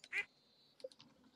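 A duck in the Stardew Valley farming video game gives one short, faint quack, followed by a few soft, scattered clicks in an otherwise quiet scene.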